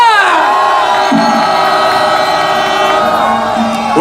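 A large outdoor crowd at a winter street rally cheers and shouts to welcome a Catholic band on stage. The cheering is loud and sustained, with whistle-like tones sliding downward at the start.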